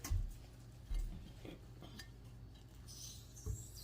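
Spoon scraping and clinking against a pan as a butter swim biscuit is lifted out, a few soft metallic knocks and scrapes, close but quiet, no talking.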